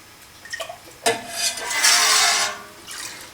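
Raw milk for Caerphilly cheese is stirred top-down in a pot, giving soft close sloshing and swishing with a sharp knock near the start and a longer liquid surge midway, no talk.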